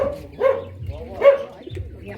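Dogs bark at a house where a cobra has been cornered, giving two distinct barks about a second apart, moderately close, with lower rustling and faint background noise between them.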